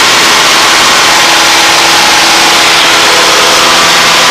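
A 180 HP light aircraft engine drones steadily in flight, a loud, continuous, even roar filling the cabin with no change in pitch or level.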